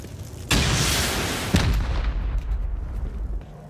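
In a video game, a rocket is fired with a sudden loud blast and a second heavy boom follows about a second later, both rolling into a long, slowly fading rumble.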